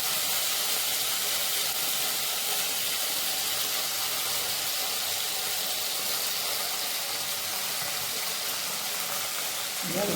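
Ginger and green chili paste with salt sizzles steadily in hot oil in a pan, a continuous loud hiss of frying that holds at an even level throughout.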